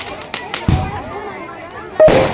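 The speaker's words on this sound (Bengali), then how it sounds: "তো চলো এবার বাজি ফোটানো হচ্ছে," Fireworks set off at a wedding reception, a few sharp pops and cracks scattered over a couple of seconds, with a louder burst at the end and a voice speaking faintly in between.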